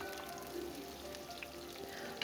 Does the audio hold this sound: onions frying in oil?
yes